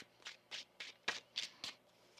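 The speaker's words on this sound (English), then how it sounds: "One more shuffle." A tarot card deck being shuffled, with about seven crisp riffling bursts in a steady rhythm, close and fairly quiet, and no talk over them.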